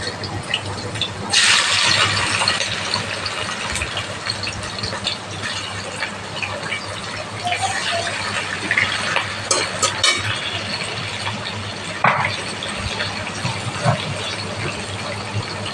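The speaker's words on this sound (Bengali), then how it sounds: "চিংড়ি মাছটা হালকাভাবে ভেজে নিতে হবে।" Prawns rubbed with turmeric and salt fry lightly in a pan, giving a steady close sizzle and crackle with occasional louder spits and bursts throughout, and no talking.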